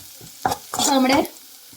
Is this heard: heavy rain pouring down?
no